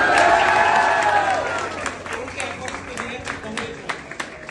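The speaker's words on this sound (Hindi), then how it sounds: "मैं रिक्वेस्ट करता हूँ जोरदार तालियों से यहाँ पे मौजूद सभी टीचर्स को थैंक यू बोलते हैं।" Students in a classroom setting give the teachers a round of applause with scattered cheering, starting loud and dense, then thinning into sparser individual claps as voices murmur underneath.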